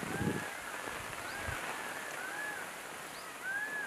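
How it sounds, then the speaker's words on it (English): A sudden rain shower pours down in a forest, a steady dense hiss of falling drops with faint bird calls threading through it and no speech. "A sudden opening up of the skies brought the rain down on us"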